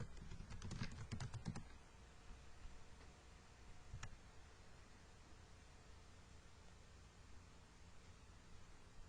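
A computer keyboard tapped in a quick burst of keystrokes near the start, then a single later click, all over a faint steady hiss.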